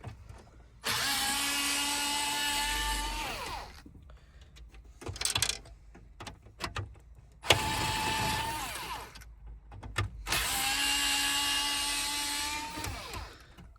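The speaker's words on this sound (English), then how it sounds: "What you want to do is you want to get your T20 screwdriver, pop it in there." A powered T20 driver whirs in three long, loud bursts while removing the head unit screws from a Range Rover Sport, with short clicks and handling noises between the runs.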